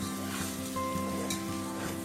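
Rice stirred in a hot pan gives a steady, close sizzle that runs without a break under a faint low hum. No one talks.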